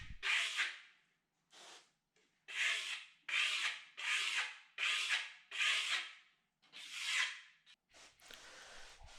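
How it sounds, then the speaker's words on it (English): Steel trowel scouring and burnishing a lime plaster finish coat on a wall, heard as repeated close, raspy rubbing strokes in a steady rhythm with short pauses between passes. "We found that doing the scouring and burnishing steps in stages as we worked across these walls worked out a lot better"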